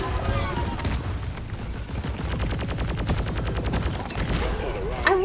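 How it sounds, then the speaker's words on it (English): Submachine gun firing in Deep Rock Galactic, a sustained rapid automatic rattle running for several seconds with brief breaks, loud and close amid dense game noise. "I wish the SMG sounded cooler"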